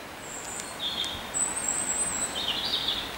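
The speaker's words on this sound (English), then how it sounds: "And listen to the birds singing." Birds sing in woodland. Their clear chirps and whistled phrases come in short separate bursts over a soft steady background hiss. They sound moderately distant and fairly faint, with no voices.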